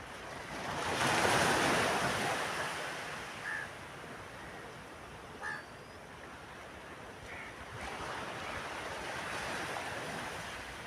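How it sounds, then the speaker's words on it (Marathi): Sea waves break on the shore at high tide on a morning coast, a broad roaring wash that swells and recedes twice, with wind buffeting the microphone and no voices. "आता भरती चालू आहे भरतीचा आनंद घ्या येईल मोठी लाटी"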